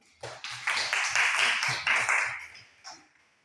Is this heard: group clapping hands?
yes